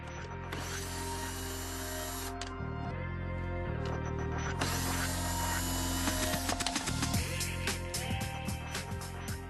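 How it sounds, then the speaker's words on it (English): Ratchet wrench clicking repeatedly while loosening four nuts on the firewall steering-spindle bushing of a Mercedes-Benz, close and mechanical, over a steady low hum. "Then unscrew 4 nuts in the firewall bushing for the steering spindle."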